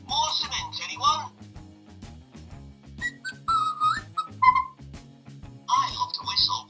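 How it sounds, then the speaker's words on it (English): A toy cement mixer plays a cheerful electronic whistled tune in short melodic phrases over a steady, looping background jingle, fairly loud and close. "I love to whistle while I work."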